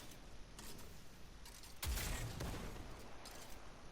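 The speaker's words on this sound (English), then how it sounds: "Actually landed a shot with the grenade launcher there" A grenade launcher shot fired in Destiny 2's Quarry Legend Lost Sector, a single heavy boom in the middle of the clip standing out above a steady bed of game noise and softer distant gunfire.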